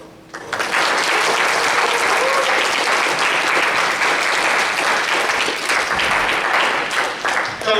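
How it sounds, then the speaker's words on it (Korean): Church congregation at a young adults' Sunday worship service in Auckland breaks into sustained applause, loud and dense from start to finish with a brief dip near the end. "하나님께 감사의 박수와 기쁨의 박수와 즐거움의 박수와 또 영광의 박수 올릴 수 있었으면 좋겠어요"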